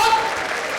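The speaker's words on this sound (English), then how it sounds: "can we give them a massive, massive big round of applause and a big cheer?" An audience at a session of the 2015 World Bowls Championship claps in a loud, dense burst of applause, close and sustained across the whole brief moment.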